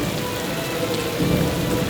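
Steady rain falling as a sound effect in an animated fairy tale, a dense close patter with a faint low rumble underneath, continuous throughout without any voices.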